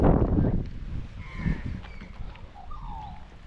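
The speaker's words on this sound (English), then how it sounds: "The Australian magpies out in full force." Australian magpies call in a suburban park, their warbling, fluting notes rising and falling several times over a low, steady outdoor rumble, moderately distant and faint.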